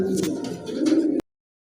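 A female pigeon gives a low, throaty coo close by, one rolling call lasting about a second before cutting off abruptly.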